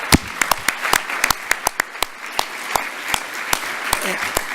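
Scattered applause from a conference audience at a forum on reinventing cardiac care, with distinct claps popping at a steady, uneven rhythm over a soft room hum, fairly close and moderately loud.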